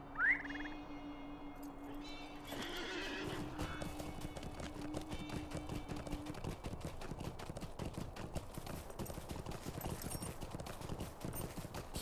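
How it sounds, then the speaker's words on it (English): A horse clip-clops in the game Lord of the Rings Online, starting with a brief mount whinny, then a steady rapid gallop of hooves that carries on for the rest of the clip over a faint ambient drone. "Let me actually get on my horse as well, because I'm going to have to ride a long way south"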